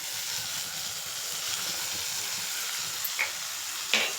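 Egg fried rice sizzles steadily in a hot pan as soy sauce is poured in. A dense, even hiss runs throughout, with a couple of faint clinks of a spoon near the end.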